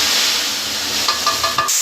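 Cumin, green chilies and roasted masala sizzle and fry in a home kitchen pan, a steady close hiss of frying with a few brief stirring clinks near the end before it cuts off.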